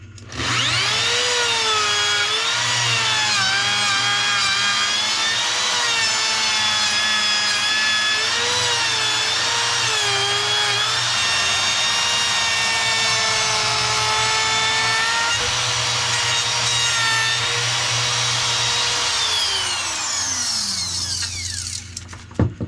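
Router cutting wood for a Floyd Rose cavity in a Telecaster guitar body: a loud, continuous high whine that rises and falls slightly in pitch as the bit moves through the wood, tapering off at the end.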